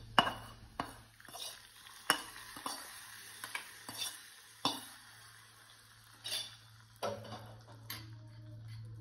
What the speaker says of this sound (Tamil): நம்ம தாளிச்சதை இதில் சேர்த்துக்கலாம்.